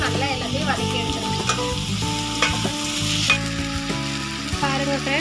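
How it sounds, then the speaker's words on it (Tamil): Chopped onions and tomatoes with salt sauté in a pan for pirandai chutney, a close, continuous sizzle with repeated scraping and stirring strokes of a spoon against the pan. "சேர்த்து இதையும் நல்லா எல்லாத்தையும் வதக்கி எடுத்துருங்க"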